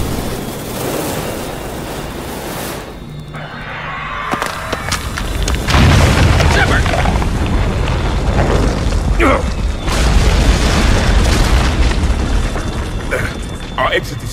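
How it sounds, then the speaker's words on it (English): A cave-in in Mass Effect 3 brings a deep, heavy rumble with crashing debris that swells loud and close midway, then keeps grinding on under scattered clanks and mechanical noise. "What was that noise, Shepard? Sounded bad. Cave in."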